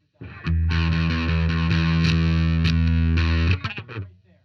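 An electric guitar played through a high-gain DOD American Metal distortion pedal, a sustained saturated chord ringing loud and alone for about three seconds before being cut off and fading.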